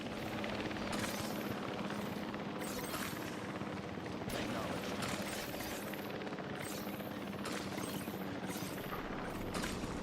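A helicopter in the video game Jurassic World Evolution 3 gives off a continuous, loud rotor roar with a rhythmic blade thump pulsing throughout.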